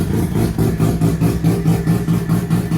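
A heavily modified, bridge-ported REW-swapped Mazda RX-8 rotary engine runs close and loud, with a choppy, lumpy idle that pulses rhythmically and steadily throughout.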